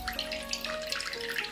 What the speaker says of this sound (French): dans un bol, on vient y verser le vinaigre d'alcool